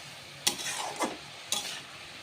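Ash gourd and prawns with cumin powder and spices are stirred in a pan, giving a low background sizzle broken by two distinct scraping stirs about a second apart.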